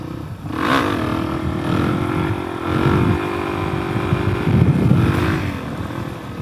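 Suzuki DRZ400S motorcycle spinning out while riding off-road in a hayfield, the engine revving up and down in repeated loud surges with a rough, buzzing tone close by.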